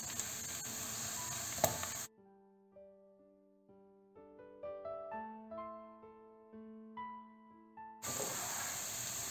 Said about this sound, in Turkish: Yağımız kızınca soğanlarımızı atıyoruz.